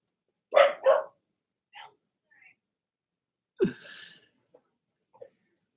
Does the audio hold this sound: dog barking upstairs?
yes